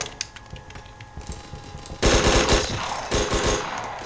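AK-47 gunfire in the Phantom Forces video game: a few light shots, then dense rapid automatic bursts that crackle loudly and continuously, with a short pause before a second burst.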